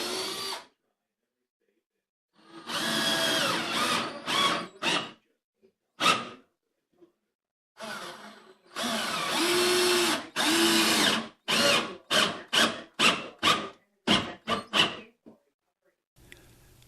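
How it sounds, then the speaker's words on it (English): A power drill drives wood screws into a kitchen cabinet face frame, close and loud, with several long whirring runs and many short bursts separated by silent gaps. "drill counterbore holes through the face frame and install wood screws, attaching the cabinets to one another"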